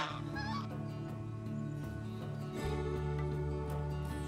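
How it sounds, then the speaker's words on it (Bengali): A flock of ducks bathes in a pond at an ashram in Bandel, giving off honking, goose-like calls amid a steady background hum, fairly faint. "গরমের মধ্যে স্নান সারতে ব্যস্ত হাঁসের দল।"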